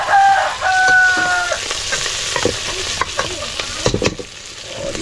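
Ricado seasoning for native chicken sizzles and crackles in a hot pan with scraping stirs, while a rooster crows nearby near the start.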